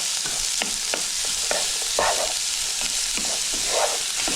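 Finely diced onions and garlic fry in oil in a pan, giving a steady close sizzle broken by repeated scraping stirs of a utensil, with no talking.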